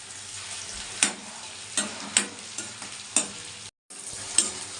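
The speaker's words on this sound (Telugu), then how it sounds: "పచ్చిమిర్చి కూడా వేసేసి వేపేస్తున్నాను అనమాట" Green chillies, chana dal, urad dal and garlic fry in oil for a tomato coriander chutney, a soft steady sizzle punctuated by about six sharp stirring scrapes, with a brief dropout near the end.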